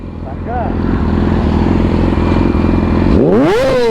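A motorcycle engine idles with a rough, pulsing chug, then the throttle is snapped open, sending a loud, close rev climbing sharply in pitch at the end.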